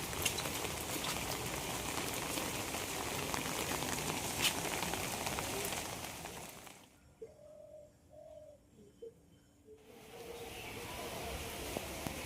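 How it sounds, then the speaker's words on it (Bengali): Rain falling as a steady broadband hiss, which breaks off briefly and then returns. During the lull, pigeons coo softly at a distance. "বৃষ্টি হচ্ছে আর পাখিগুলো মনের আনন্দে ঘুরছে।"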